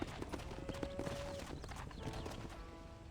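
Horse hooves clip-clop at a steady walking rhythm in the Red Dead Redemption video game, close and clear over a low ambient game background with a faint tonal hum.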